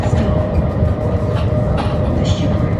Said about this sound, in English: The next tram is actually here now.